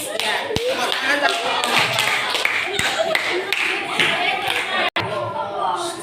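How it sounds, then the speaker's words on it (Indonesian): A classroom of students claps together, a dense continuous patter of applause close by, with voices mixed in underneath. "Ya, tepuk tangan."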